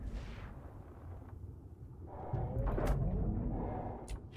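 A few deep, muffled gunshot booms in ARK: Survival Evolved, fairly faint and spaced apart, with a louder rumbling shot near the end.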